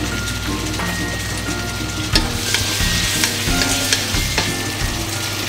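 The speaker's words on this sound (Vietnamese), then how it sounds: "Khi mà hỗn hợp của chúng ta đã được xào kỹ và có mùi thơm rất đặc trưng" Hotpot broth base with satay, seasoning and salt is stir-fried in a hot pan, giving a loud, steady sizzle punctuated by spatula scrapes and knocks against the pan.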